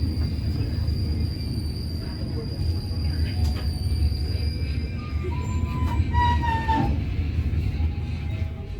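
Parahyangan passenger train pulling out of Kiaracondong station in Bandung, heard from on board as a steady low rumble of wheels with high squeals and tonal whines, and some background talk.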